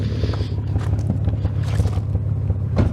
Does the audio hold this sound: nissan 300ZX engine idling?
yes